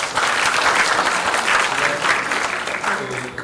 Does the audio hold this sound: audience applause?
yes